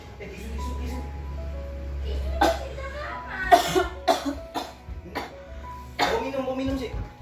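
A few coughs come close up amid talking, mixed with a low steady hum underneath and voices speaking between the coughing bursts.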